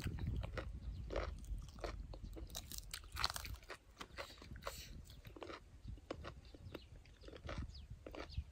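Grilled squid being chewed with repeated crunchy bites close up, irregular crisp crunches and chewing over a soft outdoor background in a rural field setting.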